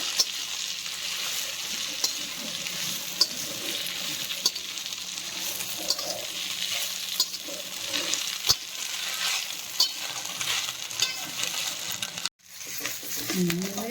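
Drumstick leaves fry in hot oil in a pan and sizzle steadily while being stirred, with soft scraping and light ticks throughout. The sound stops briefly near the end, then the frying resumes.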